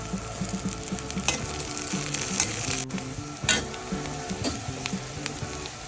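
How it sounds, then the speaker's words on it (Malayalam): Chopped ingredients for a soya chunk roast sauté in a frying pan, a continuous close sizzle and crackle broken by stirring scrapes and soft clinks of the utensil against the pan, with no one talking. "അത് നമുക്കൊന്ന് നന്നായിട്ട് വഴറ്റിയെടുക്കാം."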